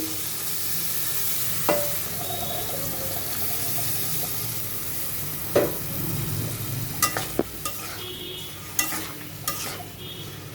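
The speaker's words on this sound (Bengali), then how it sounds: "মশলাগুলো এখন ভালো মতন কষাই নেব" Spices scrape and stir in a pan with fried potato and pointed gourd, a low sizzle underneath, punctuated by occasional sharp clinks of a spoon against metal.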